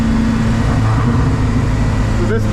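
Engine of a stripped Volvo 740 drift car running steadily on track, a continuous loud mid-pitched drone with a slight rise near the end.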